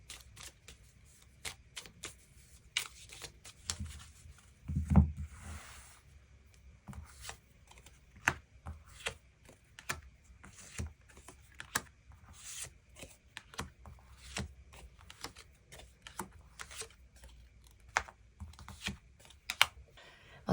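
Tarot cards being shuffled and drawn for a weekly reading, a long run of soft, rapid rustles, taps and flicks with scattered sharper snaps, close and quiet, with no talking.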